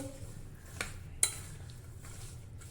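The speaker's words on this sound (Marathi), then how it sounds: "आणि दोन टेबलस्पून लिंबाचा रस घालूया आता आपण हे व्यवस्थित मिक्स करून घेऊ" Homemade carrot pickle mixed with two tablespoons of lemon juice, giving a soft, low scraping stir with two short clinks of a spoon against the bowl.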